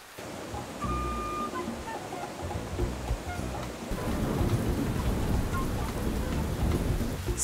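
Steady heavy rain hisses across the whole stretch, growing denser and louder partway through, with low thunder rumbling underneath.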